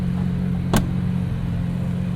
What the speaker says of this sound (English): This car is quite loud in person.